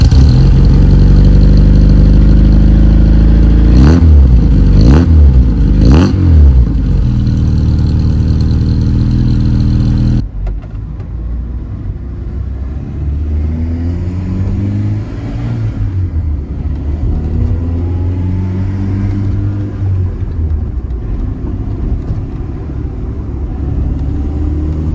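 Outside an Opel Kadett D (MK1 Astra), the engine idles with a low, steady rumble, giving a few sharp revs early on before settling into a quieter, even idle heard close by.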